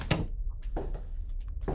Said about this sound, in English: Open door, please.